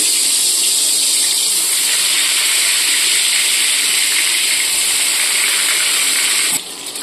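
Loud, steady hissing sizzle of eggplant frying in hot oil, continuous and close, dropping slightly at the very end.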